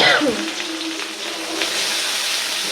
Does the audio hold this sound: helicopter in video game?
no